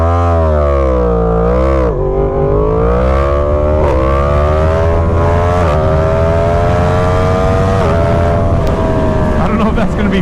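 Yamaha MT-10 motorcycle with traction control off accelerating hard through wheelies, its engine screaming loud and close, climbing through revs with brief dips at several quick gear shifts.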